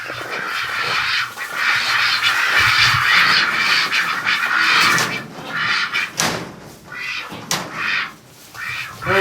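Drakes in a cold, gusty winter pen quack loudly and repeatedly at close range, their harsh calls overlapping in a busy flock chorus.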